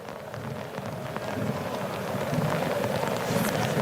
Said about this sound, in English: you can hear the rain coming down on the microphones